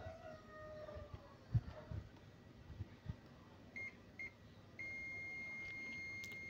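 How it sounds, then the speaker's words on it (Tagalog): A steady electronic buzzing tone from a tester sounds continuously in the second half, after a couple of short buzzes, over low background noise, while checking an air cooler with a shorted secondary winding. "Hindi nawawala yung tunog no, ng buzzer."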